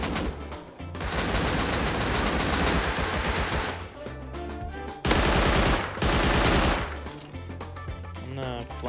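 Rapid automatic gunfire from a multiplayer video game, sustained bursts that fill most of the stretch, broken by short pauses and a sharper louder volley near the middle, with heavy low booms underneath.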